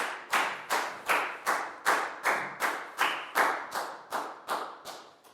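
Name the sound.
classroom applause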